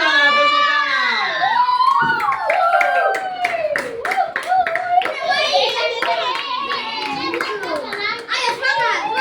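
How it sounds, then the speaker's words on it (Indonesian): Children in a primary classroom clap their hands in a burst of quick, close claps, mixed with lively children's voices and chatter throughout. "Tepuk tangan."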